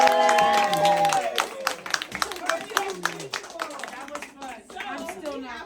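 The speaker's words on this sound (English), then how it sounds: "Clap it up for White Elephant." Hands clapping together at a White Elephant gift-exchange party in Carrollwood, a burst of applause from a small group that thins out over several seconds, with voices talking over it.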